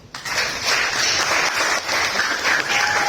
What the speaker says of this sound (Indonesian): Jadi tepuk tangan untuk.